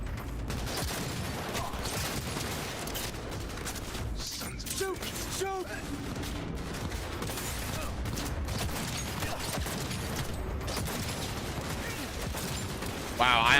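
Gunfire in the Cyberpunk 2077 video game, with scattered shots and mechanical clacks buried in a dense, constant wash of game sound and music throughout.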